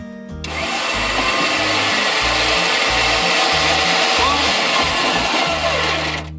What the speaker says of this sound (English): that's just the little gear that works with this winch